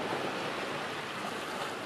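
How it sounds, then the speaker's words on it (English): Pacific Ocean waves at Tuvalu wash in a steady, broad roar of surf, continuous and fairly loud, with a breathy wind-like texture and no voices. "The welcomed waves marking time in a place where time seems endless."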